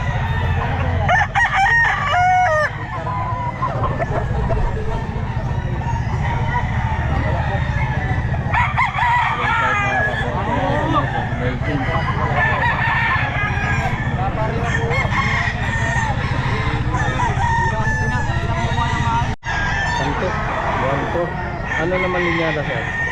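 Roosters crow repeatedly at a busy pet market, some near and some farther off, with clucking fowl and constant crowd chatter and voices under the calls.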